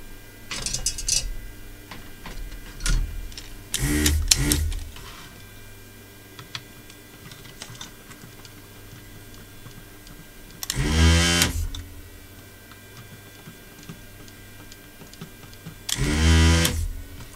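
A spring-loaded vacuum desoldering pump works on a circuit board during an electronics repair, giving sharp clicks and snaps followed by several loud bursts of suction hiss, spaced apart with quiet pauses between.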